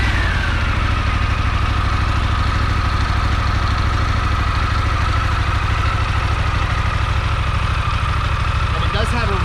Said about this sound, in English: When you start these up, I'm going to start this one up, you know immediately it's not a traditional Harley.